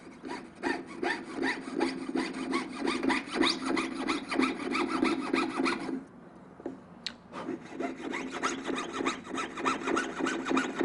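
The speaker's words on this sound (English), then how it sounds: "Again, kind of sawing in place when making a sharp turn." Rapid rhythmic rasping of a fine jeweler's saw cutting sheet metal for a goldsmith's earring, close strokes in a quick steady cadence that pause briefly midway and then resume, with no talk.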